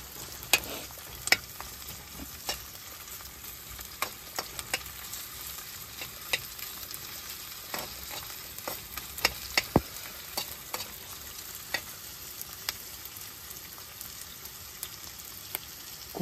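Onions fry in a pan during cooking amid heavy snowfall in Solang Valley, Manali, a steady close sizzle with scattered crackles and stirring clicks throughout, no talking.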